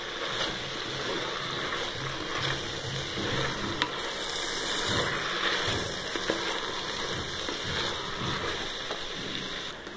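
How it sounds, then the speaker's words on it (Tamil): Brinjal for biryani sizzles steadily in a hot pan while being stirred, giving a continuous close frying hiss with occasional scraping and light clatter over ten seconds. "இப்போ கத்திரிக்காயை போட்டாச்சு, நல்லா கிண்டி விட்டுக்கலாம் நம்ம."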